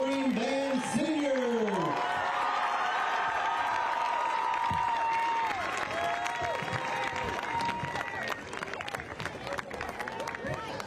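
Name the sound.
applause for band senior at high school football game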